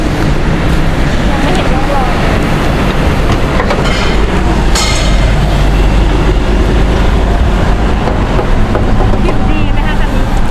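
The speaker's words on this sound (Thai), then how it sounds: "เดี๋ยวผมไปเปิดเครื่องยนต์รอนะครับ" A modified four-door Toyota Hilux Revo pickup truck's engine runs steadily outdoors, giving a loud, continuous rumble with broadband noise throughout and no breaks.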